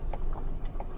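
A few soft hoof clops of a paint horse on a road against low background rumble, the horse walking somewhat away.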